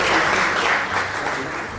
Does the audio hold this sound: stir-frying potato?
no